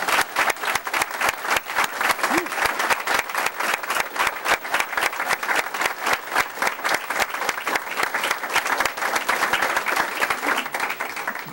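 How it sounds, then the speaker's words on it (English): A school board meeting audience applauds scholarship winners, including the Jack King Music Scholarship recipients. Dense, steady clapping from a full room carries on evenly for about eleven seconds. "please offer a round of applause for our scholarship winners"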